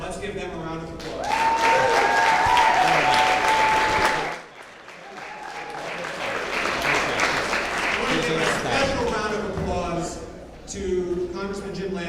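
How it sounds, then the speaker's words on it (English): An audience at a campaign event applauds senators and congressmen, a dense, sustained burst of clapping that briefly dips and swells again, with voices and cheering mixed in throughout. "Let's give them a round of applause."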